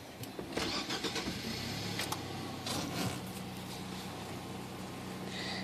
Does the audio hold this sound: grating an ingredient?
no